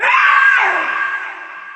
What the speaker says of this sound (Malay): Pernah jadi aku dengar suara perempuan menjerit